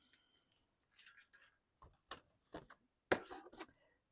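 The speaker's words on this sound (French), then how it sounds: "Mes ciseaux, ils sont là." Scissors cut paper close by in several sharp, separate snips and crisp cutting scrapes, with quiet pauses between them and no talking.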